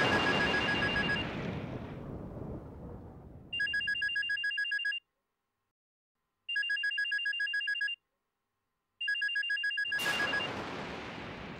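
A telephone ringing in a household drama scene: three evenly spaced electronic rings, each about a second and a half long with clear gaps, set between swelling background music at the start and end.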